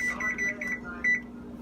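A kitchen timer gives a string of short electronic beeps as it is set for about ten minutes while boiling pasta, with a steady hum beneath and a person speaking over it.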